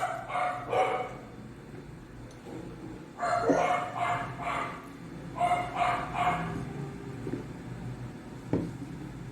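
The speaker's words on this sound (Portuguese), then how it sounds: "Deixa eu aqui beber uma água enquanto os cachorros latem" Dogs bark in a few separate bursts of several barks each, somewhat distant, with quieter gaps of background noise between them.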